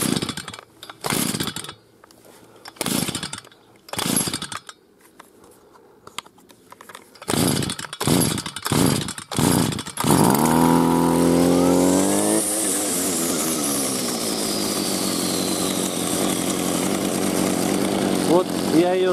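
A lawn mower engine is pulled to life after several sputtering cranks and short bursts, then catches and roars steadily at high revs, loud and close, while someone talks briefly early on.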